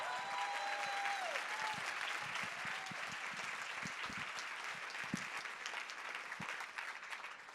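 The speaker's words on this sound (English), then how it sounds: "Can we give her a round of applause as she comes to the stage?" Audience applause at a summit keynote panel as a speaker walks to the stage, a steady wash of clapping at moderate volume with faint tonal sounds early on and scattered thumps underneath.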